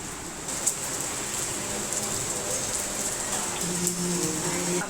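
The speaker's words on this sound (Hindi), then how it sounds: "देख लो बारिश हो रही है भाई" Monsoon rain falls as a steady, hissing wash with occasional heavier drops, moderately loud and close, and a faint low hum underneath.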